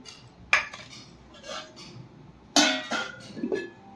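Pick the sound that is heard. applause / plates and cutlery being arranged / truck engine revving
plates and cutlery being arranged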